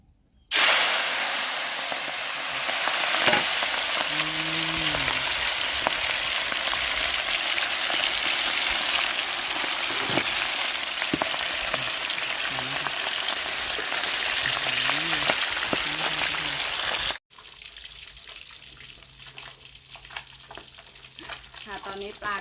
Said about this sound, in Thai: ตอนนี้กระทะได้ที่แล้วนะคะ แล้วก็เอาปลาลงไปเลยนะคะ